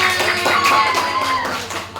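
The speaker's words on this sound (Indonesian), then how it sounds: "Oke, tepuk tangan." Brief, dense applause in a classroom during an academic supervision session, a group clapping together continuously for about two seconds, close and fairly loud.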